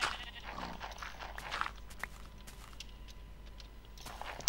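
A sheep bleats a few times nearby, short wavering cries that stand out over a quiet background with light rustling.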